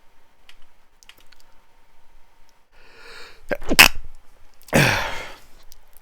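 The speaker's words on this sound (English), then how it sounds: "sorry if I sneeze and cough a bit" One person sneezes sharply and close by after some quiet keyboard clicks, a sudden loud burst followed moments later by a second explosive sneeze.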